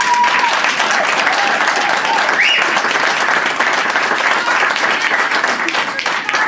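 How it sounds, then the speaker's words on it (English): Audience at a presentation giving a round of applause, loud sustained clapping throughout with faint voices mixed in underneath. "Another round of applause"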